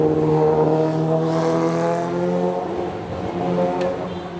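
Loud motor vehicles passing along a beach road in Da Nang at night, with a sustained droning engine roar, steady and close, no voices.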